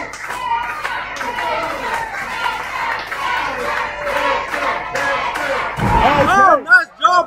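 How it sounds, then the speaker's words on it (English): Indie wrestling crowd at a live match cheering and shouting continuously, loud and close, with sharp slams and a burst of louder yelling near the end. "this crowd is trying to get with Dexter, man, trying to get him back"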